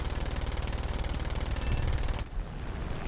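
Aircraft cannon and machine guns fire from a He-112 B-1/U2 fighter in the War Thunder game: a rapid, evenly pulsed loud burst that runs about two seconds, then cuts off abruptly to quieter engine drone.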